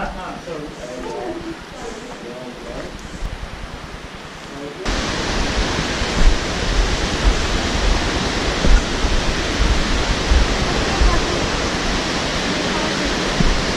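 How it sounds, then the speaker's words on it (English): A waterfall roars inside a cave in Tasmania. It starts as a softer rush under people talking, then swells to a loud, constant roar that fills the space. "Have a look at the waterfall when you get in the middle."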